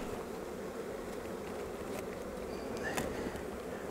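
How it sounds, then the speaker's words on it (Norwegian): Bees buzzing at an open beehive, a dense, steady hum of many insects close by, with occasional louder passes of individual bees flying near. "det er rikelig med bier her"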